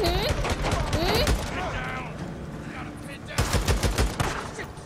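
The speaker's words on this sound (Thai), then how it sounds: "ยิงกันมันมากเลยนะยิงกันมันเหลือเกินนะ" Gunfire in the video game Days Gone, several sharp bursts near the start and again toward the end over a continuous background, with a voice talking at times.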